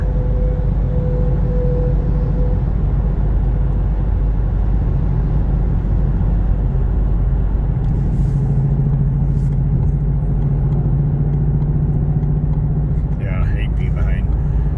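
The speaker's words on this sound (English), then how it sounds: "There's a big old truck with a bunch of steel on it" A big truck loaded with steel passes on a 65 mph road, heard from inside a moving car as a steady, loud road rumble and engine drone that swells briefly as it goes by.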